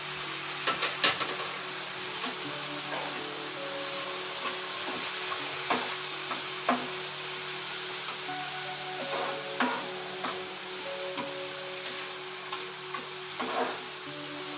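Garlic, ginger and onion frying in a pan, with a soft continuous sizzle and scattered scraping and stirring clicks throughout; steady and close, no talking.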